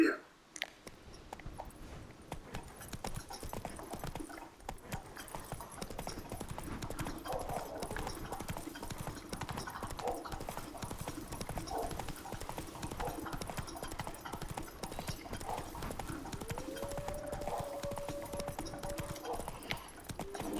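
Clip-clop of a horse's hooves galloping steadily in The Witcher 3 video game, continuous and fairly close, with a voice talking over the running horse.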